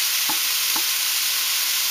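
Garlic sautés in a pan at just under medium heat, a constant close sizzle with two brief scraping stirs early on, no voices.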